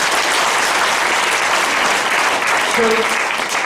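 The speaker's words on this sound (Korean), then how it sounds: "장두채 루카 원장님들 박수 부탁드립니다" Applause fills a lecture hall at a senior academy closing ceremony, dense, loud and continuous clapping from a seated audience lasting throughout, with a brief voice near the end.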